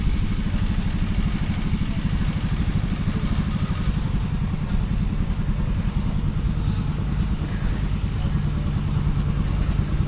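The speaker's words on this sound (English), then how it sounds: "The garden tractor pull." Continuous loud, rumbling engine roar from several garden tractors at a garden tractor pull, steady and unbroken throughout with a rough, clattering edge.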